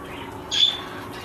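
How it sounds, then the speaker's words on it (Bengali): A pet bird lets out a single brief, fairly faint squawk in a quiet kitchen, then falls silent. "ওই যে আমার পাখি কেঁচামেচি শুরু করে দিছে।"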